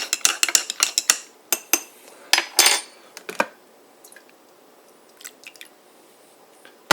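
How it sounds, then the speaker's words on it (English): A metal spoon clinks rapidly against the inside of a mug while stirring a French vanilla cappuccino, a quick loud burst of ringing taps that slows and trails off into a few faint scattered clicks. "you stir it up."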